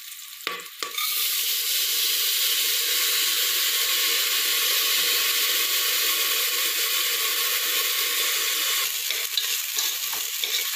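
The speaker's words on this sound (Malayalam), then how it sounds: "ഇനി നമുക്കിതിലേക്ക് അരി ഇട്ട് കൊടുക്കാം" Rice sautéing in a pan with green chilli, ginger and asafoetida for ven pongal, a steady loud sizzle and frying crackle that runs evenly throughout, with a brief stir-like break near the start and slight shifts near the end.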